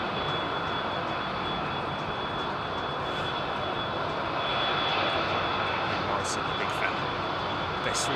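An Airbus A380 departing London Heathrow, its jet engines a steady, broad roar at moderate distance throughout, with people chatting over it.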